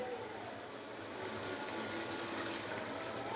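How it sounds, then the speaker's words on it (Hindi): A glass of water poured into a pot of mutton and tinda curry, a steady close rush of liquid that swells slightly partway through, heard alone without talk. "तो अभी मैं इसके अंदर डाल दूंगा 1 गिलास पानी"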